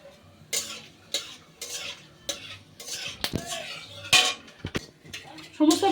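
Whole spices, including cracked cardamom, cinnamon and cloves, fry in oil for chicken kosha, with irregular sharp clacks and scrapes of a spatula against the pan over a low, faint sizzle.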